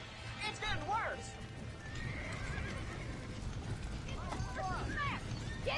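A horse in Red Dead Redemption neighs and whinnies several times over steady clip-clopping hooves, with game background noise underneath.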